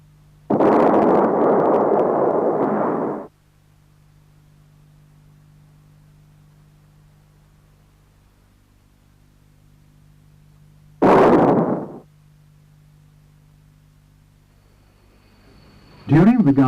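Anti-tank missile test shots strike heavy armor, producing a long roaring blast, a second shorter explosion after a quiet stretch, and the start of a third burst at the end, all loud and broadband.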